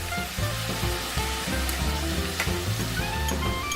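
Beef brisket and chopped vegetables sizzle and crackle steadily in a pot for a Korean doenjang stew, a close continuous frying hiss with light stirring clatter over a background of music.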